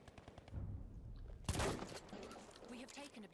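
Gunfire in the Battlefield 1 game, a low rumbling volley capped by one sharp loud shot midway, with battle noise continuing under quiet background voices.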